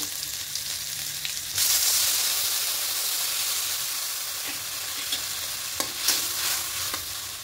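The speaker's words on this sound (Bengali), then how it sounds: "এবার একটু ভেজে নেব।" Pumpkin, eggplant and shrimp fry in hot oil in a pan for a sour shrimp dish. A close, steady sizzle swells suddenly early on, then continues with scattered stirring scrapes and pops, and no one speaks.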